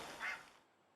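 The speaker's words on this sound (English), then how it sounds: "Eider ducks" A single short, nasal duck call from eider ducks at a wetland wildlife reserve, moderately faint against quiet background, lasting under half a second.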